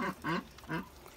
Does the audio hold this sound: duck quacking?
yes